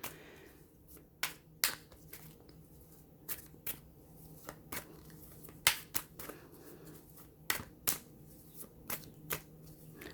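Tarot cards shuffled by hand, a series of sharp riffling slaps and snaps at an uneven pace over a low steady background hum, with no one speaking.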